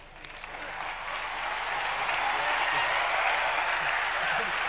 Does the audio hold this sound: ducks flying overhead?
no